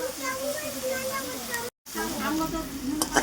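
Chapila fish coated in spices and mustard oil sizzle and hiss in a pan, a close steady fry with a brief cut of silence midway and someone talking over it.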